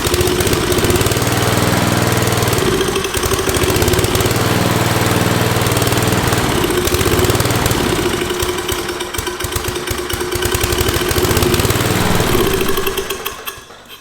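A 1986 John Deere R92 mower engine, about thirty years old, chugging into life and then running loud and rough at a steady idle for several seconds before cutting out at the end.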